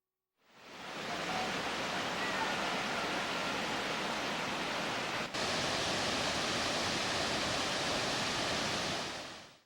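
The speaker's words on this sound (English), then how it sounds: "visiting waterfalls" A steady, dense rush of falling waterfall water in Glacier National Park, Montana roars continuously, fading in at the start and holding an even wash throughout.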